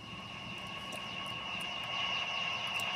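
A UFO in a Roblox game gives off a steady, high, whining hum like an aircraft engine, swelling slightly louder, with faint repeated clicks over it.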